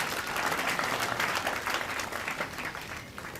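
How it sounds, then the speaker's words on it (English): High school students in a hall applaud themselves for improved exam results, a dense, steady round of clapping that slowly tapers, with faint voices underneath. "Can you clap for yourselves for that improvement?"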